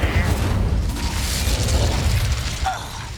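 An Incendio fire spell cast during combat in Hogwarts Legacy, a loud whooshing burst with crackling, dense battle noise around it.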